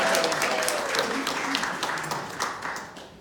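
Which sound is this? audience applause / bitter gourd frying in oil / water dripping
audience applause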